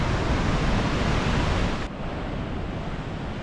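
Calm sea waves wash onto a coastal shore in winter, a steady broadband hiss of surf mixed with wind that drops slightly in level partway through.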